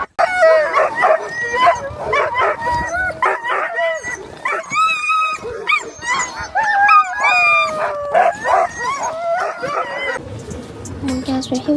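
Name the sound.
sled dogs barking and howling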